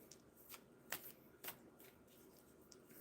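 Playing cards shuffled in several quick riffling bursts, close and soft, with a low murmur of room background between them and no clear talk.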